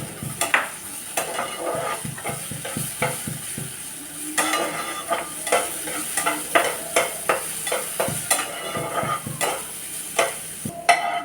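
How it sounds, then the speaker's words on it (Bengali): Cashews and raisins lightly frying in a pan, a steady sizzle broken by rhythmic scraping strokes of a spatula stirring them, close and clear with no talking. "এবার একে একে কাজু কিশমিশগুলো দিয়ে দেব, দিয়ে হালকা ভেজে নেব।"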